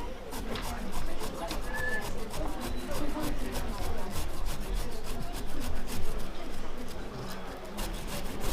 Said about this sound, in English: when you grate it, cut it into little bits like that, and you'll get a better one